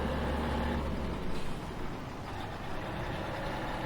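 A Mack truck engine in the Farming Simulator 17 video game, a steady low droning rumble that holds at an even level throughout, alone without any talking.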